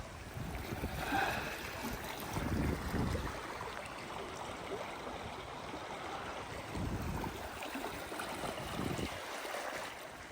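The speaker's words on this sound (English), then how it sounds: "Fixing to get in the water and scoot across there pretty quickly too." A hiker wades across a stream in Panthertown Valley, North Carolina, with close, steady rushing and splashing water and louder surges of sloshing as the legs push through the current.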